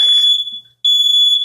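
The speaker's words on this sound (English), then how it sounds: "Oh, that's the smoke alarm." A smoke alarm beeps loudly and close by: two long, piercing electronic tones separated by a short gap of silence, with no talking over them.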